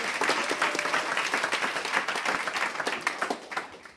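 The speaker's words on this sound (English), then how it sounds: "Give Nicole a round of applause" An audience at a forensic science talk breaks into warm applause, dense clapping that holds steady and then tapers off at the end.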